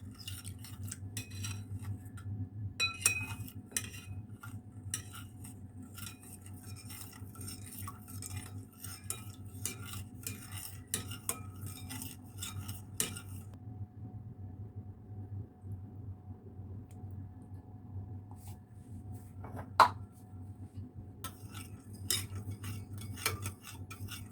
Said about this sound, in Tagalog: Hahaluin na natin ng hahaluin hanggang sa mag-mix yung jelly at saka yung milk.